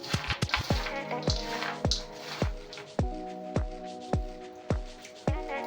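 Small amounts of water worked into a masala peanut mixture: soft wet squishes and sharp clicks repeat about every half second, close and fairly faint, with no talking.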